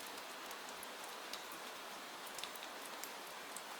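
Steady rain patters on tree leaves in a forest, a dense and even hiss of countless drops with faint scattered taps. It carries on without change, with no voices.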